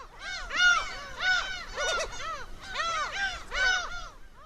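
Black-tailed gulls call in a dense breeding colony on a small sea island, harsh mewing cries overlapping in waves from many birds, loud and near with more distant calls behind.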